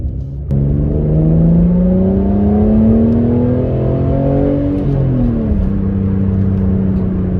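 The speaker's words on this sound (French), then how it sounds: "vu que j'ai modifié les échappements, il y a quand même un bruit assez sympa quand on entend bien" An Italian V6 in an all-wheel-drive estate car with a modified exhaust starts with a sudden catch, then hums and revs steadily up and down, close and loud with no talk over it.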